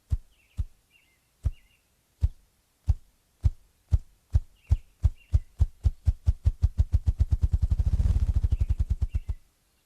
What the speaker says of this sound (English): the sound of this bird, the ruffed grouse, a male ruffed grouse producing his display call